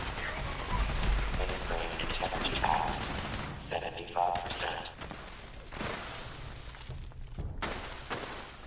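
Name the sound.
gunfire in the video game Fallout 76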